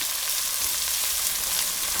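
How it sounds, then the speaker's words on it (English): Two finely sliced red onions sautéing with spices in a pan for mutton yakhni pulao, giving a steady, dense sizzle and crackle throughout, close and fairly loud with no talking. "in goes 2 red onions finely sliced and we're just going to let it soften now."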